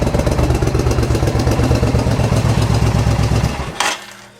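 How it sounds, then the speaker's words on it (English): A 1400 motorcycle engine revs on the throttle with a loud, rapid, pulsing beat close by, then drops off abruptly toward the end. "when I hit the throttle on this thing, the whole bike shakes"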